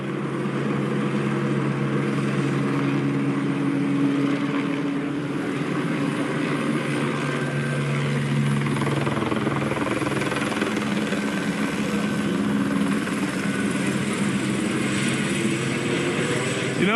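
A police helicopter hovers overhead in a steady, loud, continuous rotor and engine drone that lasts the whole stretch without letup, with muffled voices underneath at times.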